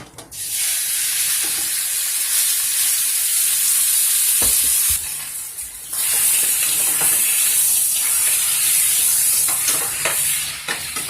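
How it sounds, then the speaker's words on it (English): Steak pieces sizzle and fry loudly in about two tablespoons of vegetable oil in a hot pan, a steady close hiss with occasional stirring clatter throughout. "We're gonna take about 2 tablespoons vegetable oil. Throw that meat right in there."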